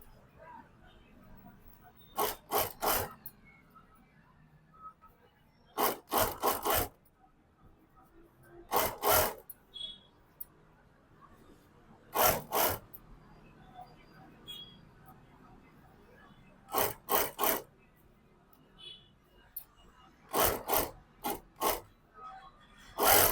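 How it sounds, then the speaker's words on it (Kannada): A sewing machine runs an edge stitch along folded fabric in short, rapid bursts, each a quick rattling whir. Quiet pauses separate the bursts, which come every few seconds at close range. "ಈಗ ಇದನ್ನ ಮಡ್ಚಿ ಕಿನಾರಿ ಸ್ಟಿಚ್ ಹಾಕೊಳ್ಳೋಣ, ಎಡ್ಜ್ ಸ್ಟಿಚ್."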